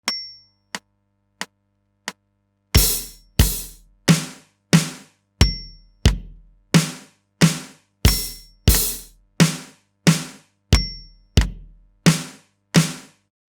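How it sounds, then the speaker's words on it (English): Heavy hi-hat voice on an old Roland TD6V electronic drum kit: a few sparse clicks with a faint beep, then a steady 90 BPM groove of sharp, bright hits, each with a quick decay, close and loud with no talking. "on the Roland TD6V, my ancient electronic kit, it's instrument number 570, the heavy hi-hat."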